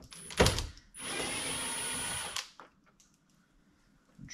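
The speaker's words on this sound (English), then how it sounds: "There's a bolt here, a bolt here, and a bolt under here. So we're gonna go ahead and take those off." A 7mm bolt is being driven out of a car speaker mount with a power drill or driver. One sharp knock comes first, then a steady whir lasting about a second and a half, close and fairly loud. Quiet clicks follow.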